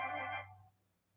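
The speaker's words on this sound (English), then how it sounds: "my phone is popping off today" A phone gives a short tonal ringtone or notification chime with steady pitched tones, fairly faint, cutting off after about half a second into near silence.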